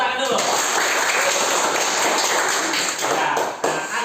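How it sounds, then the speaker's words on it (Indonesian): A class of children clapping together in a classroom, a dense, steady burst of loud applause lasting several seconds before it cuts off. "Tepuk tangan dulu."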